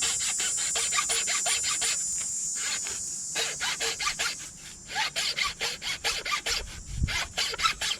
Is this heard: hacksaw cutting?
yes